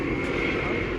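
Low-flying helicopter passing overhead, a steady loud engine and rotor roar that fills the whole moment without pause.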